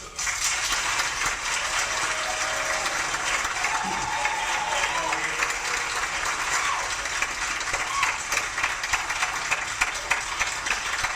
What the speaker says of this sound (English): Please join me in giving a round of applause to Carlos and Catherine Green